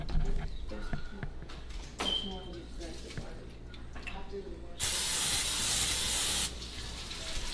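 A can of cooking oil spray hisses in a steady burst of about two seconds onto a pan for hamburgers in a home kitchen, following quieter clinks and brief talk.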